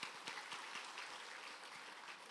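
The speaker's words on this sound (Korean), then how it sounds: "우리 찬양대 한 박수 한번 쳐주십시다" A church congregation claps steadily for the choir during a Korean service, a soft, distant patter of many hands with no talk over it.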